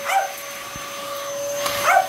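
A Sheltie gives a couple of short, sharp barks at the start and end, close by, over a steady mechanical hum with a high whine.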